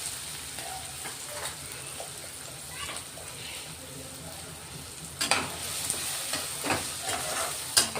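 Asafoetida goes into finely chopped onions frying in a pan, with a soft steady sizzle, a sharper burst of frying midway and occasional stirring clatter.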